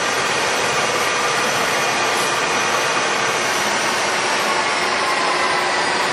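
A large American Pacemaker 27x240 lathe runs at 1200 RPM, producing a loud, continuous, even broadband whir with a faint steady tonal hum and no breaks.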